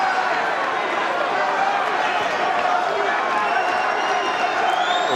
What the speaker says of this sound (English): Listen to the crowd here tonight.